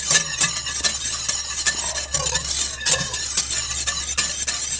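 A spoon stirs runny peach jam mixture in a pan, giving rhythmic close scraping and clinking strokes over a faint sizzle.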